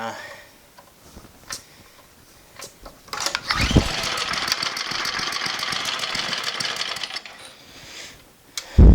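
An old, abandoned MTD snowblower engine sputters and coughs, then runs in a loud, rapid putter for several seconds before dying out, with clicks and knocks around it.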